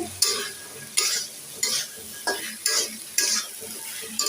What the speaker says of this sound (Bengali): এখানে মশলা কষিয়ে নিচ্ছে